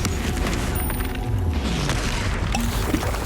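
Explosive booms and crashing blasts from the Confringo fire spell in the video game Hogwarts Legacy, a dense, loud, continuous barrage of impacts and rumble.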